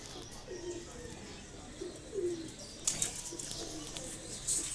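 Royal Teddy pigeons kept for sale in Lahore coo softly in short low murmurs, with faint wing flaps and a few light rustles and clicks, all quiet and close in a calm pen.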